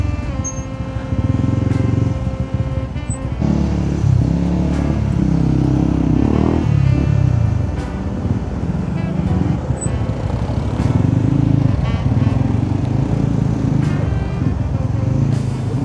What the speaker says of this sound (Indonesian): ini salah satu kemacetan di Cilengsi ini